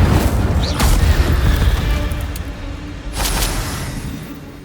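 Incendio fire spell being cast in Hogwarts Legacy, a deep booming whoosh of flame that swells and fades, followed by a second burst, loud over a dim game ambience.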